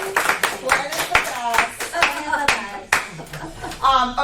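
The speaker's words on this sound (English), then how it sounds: "Let's give him a round of applause, you guys." A few people clap for a participant at a real estate investor seminar, sparse distinct claps in an uneven rhythm mixed with overlapping talking voices.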